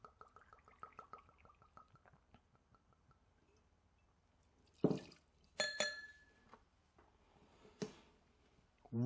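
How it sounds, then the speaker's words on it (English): Two ounces of rye whiskey go into a glass for a Manhattan, heard as a faint, close liquid trickle followed by a few sharp glass clinks in an otherwise quiet room. "So first we're going to start off with 2 ounces of rye."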